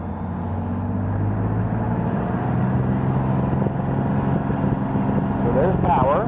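Meyers 200D light aircraft engine running up to takeoff power on runway 17, a steady loud drone with strong low harmonic tones that holds constant throughout, with voices talking over it.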